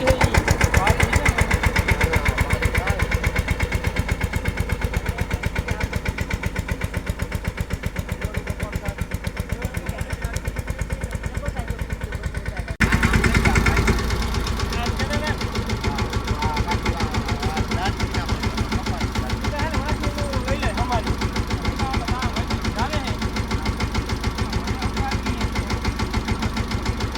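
A tractor engine runs steadily at idle with a rapid, rough knocking pulse, loud and close throughout, with a brief louder burst partway through.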